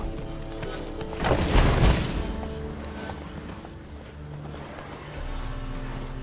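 Horse hooves clop amid a noisy Witcher 3 game soundscape, with a loud surge of movement early on and a low rumbling background.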